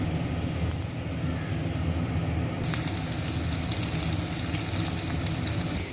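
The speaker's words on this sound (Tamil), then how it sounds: "இப்போ வெந்தயம் போட்டுக்கலாம். சீரகம் போட்டுக்கலாம்." Fenugreek and cumin seeds sizzle and crackle in hot oil while tempering a fish curry, a steady close frying hiss that grows brighter and busier partway through, with no talking.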